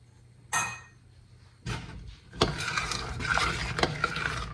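A spoon scrapes and knocks against a pot while thick melting chocolate peppermint fudge is stirred, with a few sharp clinks early, then a busier run of scraping and tapping up close.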